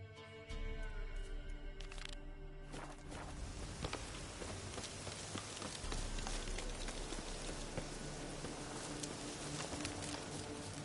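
Steady rain in the video game The Witcher 3: Wild Hunt patters densely and continuously across a surface, a close, even hiss with scattered droplet ticks and no voices.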